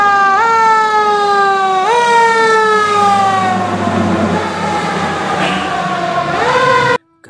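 A toy fire truck, a turbojet model, wails its electronic siren loud and near, the tone sweeping up in repeated bursts about every couple of seconds before cutting off abruptly.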